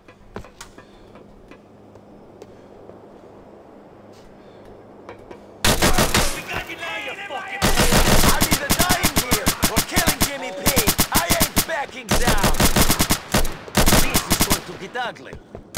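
Dense automatic gunfire from a GTA IV shootout with Niko Bellic, starting abruptly after a quiet stretch and continuing in loud rapid bursts and sharp individual shots close by, with brief pauses between volleys.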